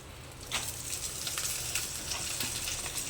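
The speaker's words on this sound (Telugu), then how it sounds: "వేగాయండి చూడండి వేగాయి మిర్చి కూడా వేగాయి" Green chillies sizzle and crackle in hot oil in a pan, a steady hiss dotted with small pops throughout, close and moderately loud with no talking.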